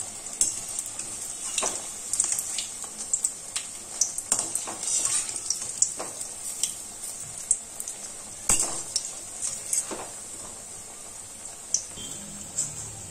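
Raw banana koftas frying in oil one at a time, a steady hiss of sizzling with clinks and scrapes of a utensil scattered throughout, close and moderately loud, with no talking.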